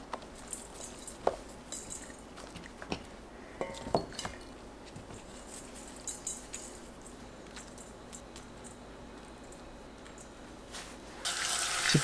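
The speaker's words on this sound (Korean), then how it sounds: "(10분) 후 물에 가볍게 헹굽니다." Eggplant being lightly rinsed under a running kitchen tap at a sink, a faint steady water flow with a few soft clinks, then a louder gush of water near the end.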